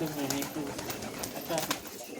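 Giribaz pigeons coo in low, repeated bursts at a home loft, where Allahabadi, Benarasi and Madraj pigeons are also kept, the coos fairly close and continuous under scattered background noise.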